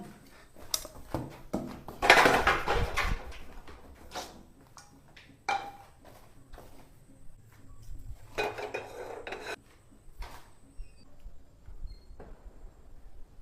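Home cooking with pots and utensils: metal clinks, scraping and stirring rattles come in irregular bursts, with a louder clatter early and another cluster later, fairly close and with no talking.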